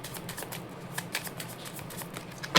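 Tarot cards are shuffled by hand at close range, soft rapid riffling and flicking in quick bursts with a sharper snap of cards near the end and no talking.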